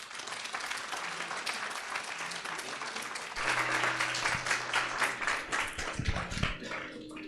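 An audience at a nanomedicine and nanotechnology course session applauds a doctor after her talk. The clapping is fairly soft and steady at first, then swells louder midway with a few voices mixed in.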